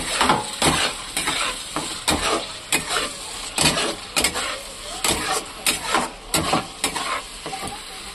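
Spice paste fries in oil as it is stirred, with loud rhythmic scraping strokes of a spoon against the pan over a constant sizzling hiss, close up.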